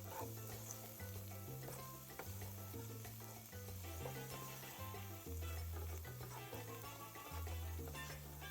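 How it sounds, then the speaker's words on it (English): Ground turkey sizzling in a pan as it is stirred into a sofrito of softened peppers and onions: a quiet, steady frying hiss with light stirring, under background music. "Now we're adding in our ground turkey and mixing it with the sofrito"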